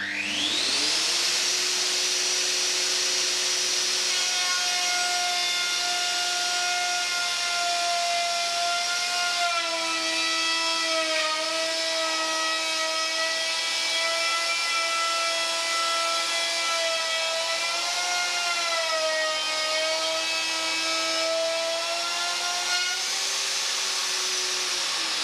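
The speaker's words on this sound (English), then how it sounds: "Adjust the turret stop to 15 millimeters and mill up to the turret stop. Start the machine." A woodworking milling machine runs steadily while cutting a groove in wood, giving a loud, continuous whine whose pitch dips slightly as the cutter bites into the timber, with no talking.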